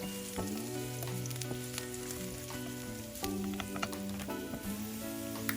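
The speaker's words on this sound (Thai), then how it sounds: "ผัดกระเทียมจนกระทั่งมีกลิ่นหอม" Chopped garlic stir-fries in hot oil in a wok, a faint constant sizzle broken by sharp scraping and tapping of the spatula, with a low hum running underneath.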